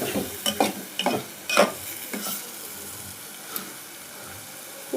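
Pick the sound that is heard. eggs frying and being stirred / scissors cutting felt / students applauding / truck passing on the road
eggs frying and being stirred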